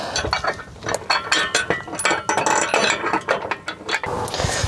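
Ratchet bolting truck front end parts, rapid clicking bursts of the pawl in quick repeated strokes with metallic clinks between them, close and fairly loud, no talking.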